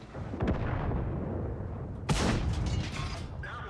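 Tank cannons fire in World of Tanks, an Object 140 battle: a loud, sharp boom near the middle with a rumbling tail, an earlier fainter shot, and mechanical creaks over a continuous engine-like rumble.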